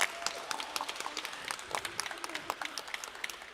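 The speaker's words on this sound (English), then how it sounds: "Can you clap for her again?" A live audience applauds a poetry reader at a Filipino cultural celebration, with dense, steady clapping from many hands that carries on through the whole stretch at an even level.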